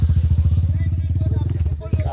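Motorcycle engine of a chain-driven vegetable transporter bike on the lowlands, loud and close with a rapid, even chugging beat that falters near the end, while people talk over it.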